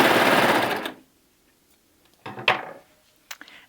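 A coverstitch sewing machine with twin needles and a looper runs fast for about a second as it chains off, then stops. A few short clicks and taps of handling follow.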